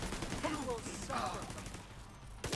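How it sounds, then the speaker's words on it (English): Turret gunfire in a video game rattles as a quiet, continuous burst under low background noise, with faint sweeping tones mixed in. "That's why I like running the turret."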